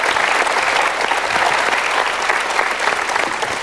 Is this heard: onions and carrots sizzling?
no